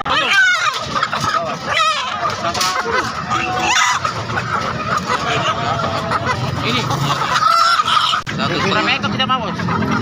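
Free-range village chickens (ayam kampung) at a poultry market cluck and squawk amid a busy crowd, with people talking over and between the bird calls throughout.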